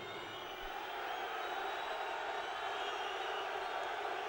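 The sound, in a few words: darts crowd cheering a player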